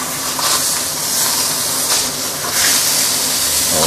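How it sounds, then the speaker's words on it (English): Fish sizzles steadily in a pan of oil, a loud continuous crackling hiss that holds throughout with no talking over it. "I'm going to let this side to fry for a minute or two before I continue"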